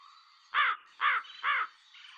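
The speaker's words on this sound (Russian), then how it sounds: "Ворон – это птица черного цвета." A raven calls three times in a row, each harsh caw evenly spaced and fairly loud against a quiet background.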